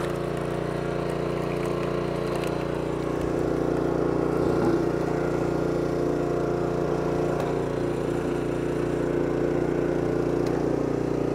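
A BAR 28 ton block splitter runs steadily while splitting timber, its engine droning evenly at a constant, fairly loud level throughout, with no distinct crack standing out and no talk.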